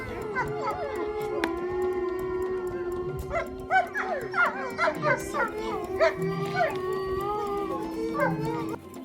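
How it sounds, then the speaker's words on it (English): Wolves at a zoo howl in long sustained tones, with shorter yips and barks breaking in through the middle of the clip, moderately near and fairly loud throughout. "These wolves represent population."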